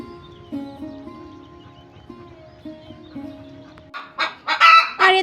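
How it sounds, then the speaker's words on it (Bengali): A hen cackles after laying an egg in a backyard poultry setup: a few loud, sharp squawks burst out near the end, following a quieter stretch with a faint steady tone beneath. "ডিম পেড়ে আমাকে কিন্তু কল কল করে আর কি জানিয়ে দিল যে আমি ডিম পেড়েছি।"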